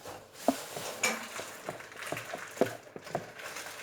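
Cake batter stirred in a bowl with a utensil, close irregular clinks and scrapes against the bowl in quick uneven strokes, no talk.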